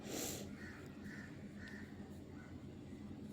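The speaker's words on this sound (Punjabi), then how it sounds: "ਕਾਂ ਬਹੁਤ ਬੋਲਦੇ ਆ ਸਾਡੇ ਆਪਣੇ" Several crow caws ring out outdoors near a home, spaced irregularly over a steady low background hum, with a louder noisy burst at the start.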